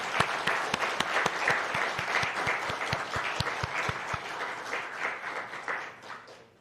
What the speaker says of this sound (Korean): 우리 졸업생들 축하하는 의미로 박수 한번 칩시다.